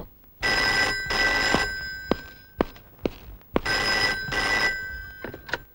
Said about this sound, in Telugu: అర నిమిషంలో ఆ ఫోన్ మోగుద్ది